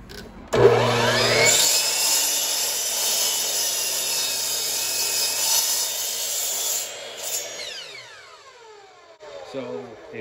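Compound miter saw powered from a 100W solar panel setup, spinning up loudly with a high whine, cutting steadily for several seconds, then winding down near the end.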